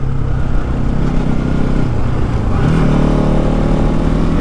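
A motorcycle cruising along a mountain road through forest, its engine giving a steady, loud, continuous drone with a slight shift in pitch partway through, wind noise mixed in and no talking.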